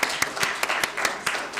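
Council members clapping at a budget council meeting in a chamber, a short spell of brisk, even applause with sharp claps at a steady beat, moderately near.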